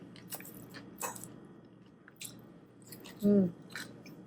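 Crunchy food bitten and chewed close up, a few crisp crunches spaced over a few seconds.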